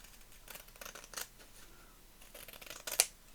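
Scissors snip through file folder card in a few short, close cuts, spaced unevenly, with a sharper final snip near the end and quiet room tone between them.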